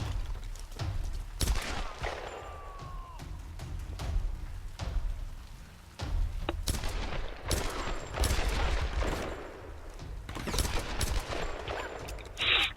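Gunfire in the Tomb Raider video game: repeated sharp shots and rapid bursts crackle across a busy, noisy battle mix, some louder and closer, others quicker volleys.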